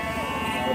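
A ram at a sheep market gives a single short bleat lasting under a second.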